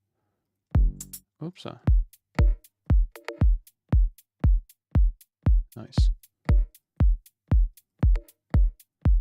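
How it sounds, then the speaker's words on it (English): An isolated clave sample with the gain boosted hits in a steady repeating pattern, each strike a sharp, bright woody click that decays quickly, with a short spoken exclamation near the start and another partway through. "And now we have just the clave."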